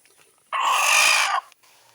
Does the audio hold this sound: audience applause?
no